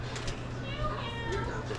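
A pet cat at a swamp tour spot on Lake Martin, Louisiana, gives soft, brief meows at close range under people chatting nearby.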